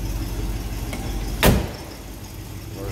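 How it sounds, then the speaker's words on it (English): A single solid thunk of a car door shutting on a 1963 Cadillac Series 62 six-window, brief and close, while the engine idles steadily in the background. "Door closes nicely."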